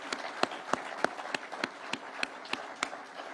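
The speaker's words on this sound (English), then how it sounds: "please let us clap for those great people" Rhythmic clapping at a gathering with President Ruto and Kenya's constitutional commissions, a regular beat of crisp claps roughly three per second that continues evenly throughout.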